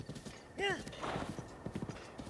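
Horse hooves clip-clop steadily on the ground in The Legend of Zelda: Breath of the Wild, with a brief loud whinny near the start and someone talking over the top.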